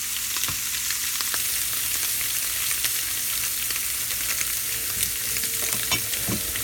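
Scallops and black tiger shrimp searing in a hot skillet, a loud, steady, dense sizzle that runs continuously with faint scattered pops and crackles, no talking.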